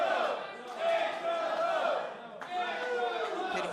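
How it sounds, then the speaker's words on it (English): A live wrestling crowd at an indoor show cheers and shouts in swelling bursts, with one brief dip between them, the noise fairly close and full. "Can hear our audience here cheering on the moment, the Money Dragon."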